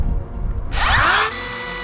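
A router fitted with a 45-degree bevel bit whines up and bites briefly into a countertop edge for a quick test cut, a loud, close burst of under a second that stops abruptly.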